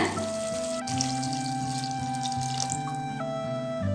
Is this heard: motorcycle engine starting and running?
no